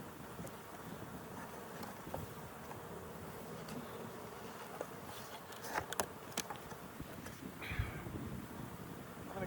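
Honey bees buzz around an open beehive box during a honey harvest in Colorado, a steady low insect drone with a few louder passes close by and light outdoor wind.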